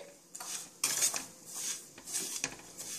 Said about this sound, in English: Now I'm adding my sugar. Okay, mix it well